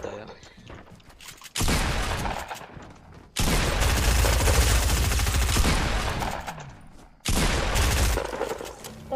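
Rapid bursts of video game gunfire in a competitive esports match, loud automatic volleys arriving in three separate waves with quieter gaps between them, heard near and dense.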